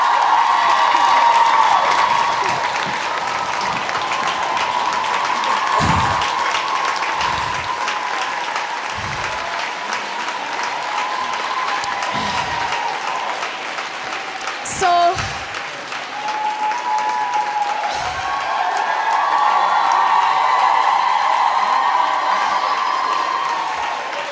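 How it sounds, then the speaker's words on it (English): Audience at a comedy show applauds warmly and steadily, the clapping swelling and easing over time with a loud crackle partway through, while a voice speaks over the clapping. "You stand up and clap for someone and they don't want to go."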